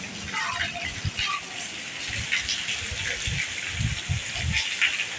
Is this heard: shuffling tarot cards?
no